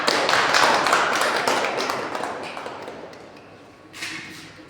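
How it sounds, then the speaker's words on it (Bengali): Applause from an audience at an abacus prize-giving ceremony, with dense, loud clapping at the start that gradually fades, then a brief renewed burst of claps near the end. "হাততালি দাও।"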